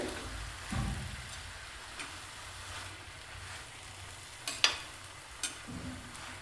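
Quiet sizzle of sprouted moong dal with dill leaves and masala cooking in a pan, with a few sharp clicks of a spoon scraping and stirring scattered through it.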